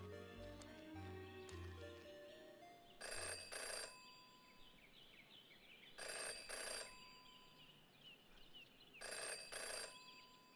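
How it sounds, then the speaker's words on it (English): A telephone rings in the Jenny LeClue detective video game, three bursts of loud bell rings spaced about three seconds apart over quiet game music. "Jenny had learned never to ignore a ringing phone."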